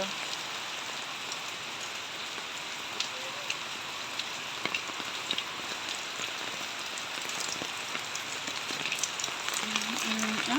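Heavy typhoon rain drums steadily on a house roof, a dense continuous hiss with scattered sharper drop impacts, growing slightly louder toward the end.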